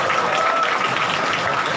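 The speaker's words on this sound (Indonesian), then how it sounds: "Tepuk tangan untuk bahasa nyelempet." A hall full of listeners at a religious memorial gathering applauds a lecture: continuous, dense clapping, fairly loud and even, with no pauses.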